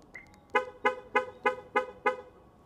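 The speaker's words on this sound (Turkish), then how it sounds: "korna çalarak ve ışıklarını açarak aracın nerede olduğunu bulabiliyorsunuz" A 2023 Chery Tiggo 7 Pro horn honks six times in a quick, even rhythm, short toots at moderate distance with little else around, triggered by the remote locator.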